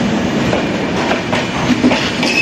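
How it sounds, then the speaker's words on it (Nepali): A long train rolls past on the railway tracks near Jogbani, India, a loud, close, continuous rumble with rhythmic clickety-clack of wheels over rail joints throughout. "लाइफमा पहिलोचोटि लाइभ रेल देख्दैछौँ"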